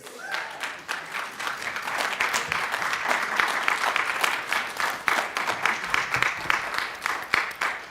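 A standing ovation from an audience at Albany State, dense steady clapping that swells and holds loud throughout, with scattered sharper claps and no voices rising above it.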